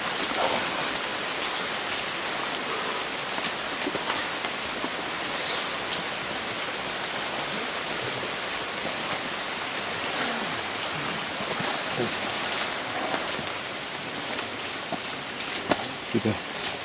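Rain pours steadily outdoors at a volcano event, a dense, loud hiss that runs unbroken throughout with a few sharper taps, and no clear voices over it.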